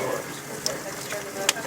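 Barbecue-sauced ribs cooking on a grill over a wood fire give off a steady close hiss of sizzling, broken by a couple of sharp crackling pops.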